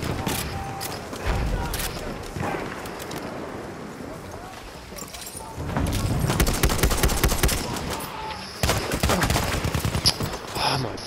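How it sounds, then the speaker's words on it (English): Machine gun fire in a World War II-style online shooter match on the Suez map, with dense bursts of rapid gunshots and scattered single shots, loud and close, under excited voices talking. "Spotted a machine gun."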